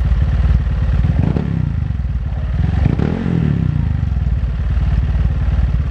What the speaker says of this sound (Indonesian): itu tadi suara knalpotnya